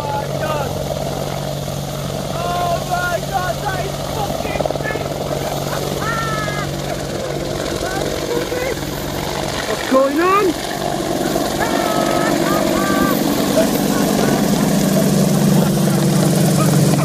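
An Apache attack helicopter passes low overhead, its rotor throb and turbine whine loud and sustained for many seconds, swelling as it nears, while excited voices talk over it.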